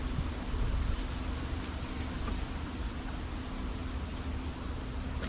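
Honey bees swarm around an open hive, their dense, steady buzzing forming a continuous hum close by, with no breaks or other sounds.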